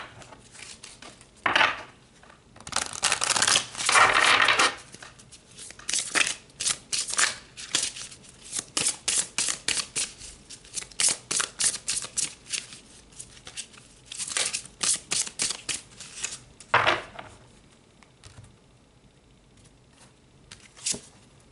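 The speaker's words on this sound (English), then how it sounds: "All right, let's pull some more cards." Tarot cards being shuffled and drawn during a reading, a run of quick papery riffles and crisp flicks coming in bursts, close and fairly loud with no talking.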